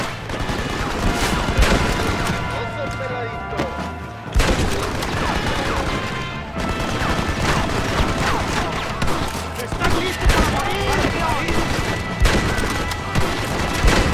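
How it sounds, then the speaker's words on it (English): Machine gun fire in the Red Dead Redemption video game during a battle to take a mansion, a dense, continuous rattle of shots mixed with booms and game dialogue. "machine gun, John."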